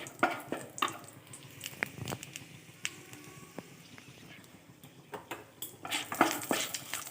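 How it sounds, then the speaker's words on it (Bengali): Whole garam masala and bay leaves stirred in melted ghee in a pan for Basanti polao, with sharp, irregular spoon clicks and scrapes against the metal over a faint low sizzle, close by. "এর মধ্যে আমি গোটা ফোড়নটা দিয়ে দিয়েছি, গরম মশলা আর তেজপাতাটা দিয়ে একটু নেড়ে চেড়ে নেব"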